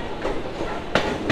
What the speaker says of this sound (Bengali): তো চলো, ট্রেন ঢুকছে, ওই ট্রেনটাই ধরবো।